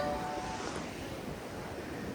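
Rough sea surf washes ashore at Malpe beach during heavy rain, a steady roar of waves mixed with wind buffeting the microphone.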